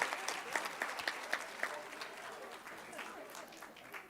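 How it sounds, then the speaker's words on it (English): An audience at a board of education employee appreciation meeting gives sparse applause for an award recipient, scattered claps fairly faint and roomy, thinning out toward the end. "Let's give her a round of applause."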